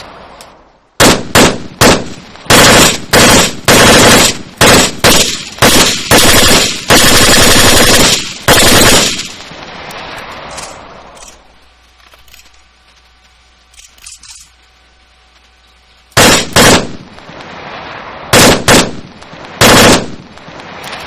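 Machine guns fire in the Arma 3 IFA3 WarMod, loud close bursts of rapid shots separated by short pauses, then a quieter stretch with a faint hum before more bursts near the end.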